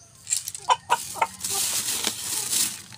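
A six-month-old Rhode Island Red chicken clucks several times in quick, close bursts, followed by a softer rustling stretch.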